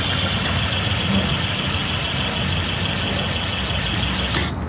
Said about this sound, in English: The motor is definitely a lot quieter.